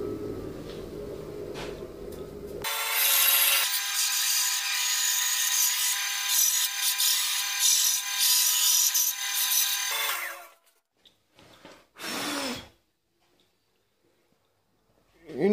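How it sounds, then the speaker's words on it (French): A band saw cuts out a wooden keychain blank, giving a loud, steady whirring rasp for about seven seconds that then stops, followed by a short burst of saw noise and quiet. "on va le découper à la scie à ruban"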